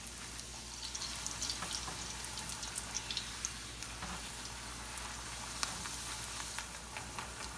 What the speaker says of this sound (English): Love this, the way it bobs around in the oil.